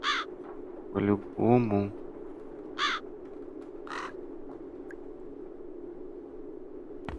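Crows caw in The Dark Eye: Chains of Satinav, several harsh calls in short bursts over a steady low ambient hum, with a brief spoken remark between them.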